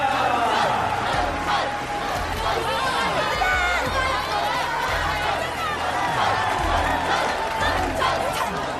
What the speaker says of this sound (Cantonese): 各位觀眾啊，神拳女俠出場啦，俾啲掌聲啦